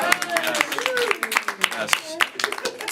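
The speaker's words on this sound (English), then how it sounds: "let's give a big round of applause for the creative spelling by Michael, everyone" An audience claps in a quick round of applause, sharp separate hand claps sounding near and irregular, with voices talking and cheering over them throughout.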